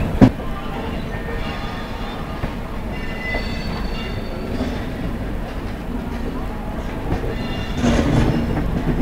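The Howrah–Tiruchirapalli SF Express rumbles along with a steady, close clatter of wheels on rails, swelling slightly louder near the end, with a sharp knock at the start.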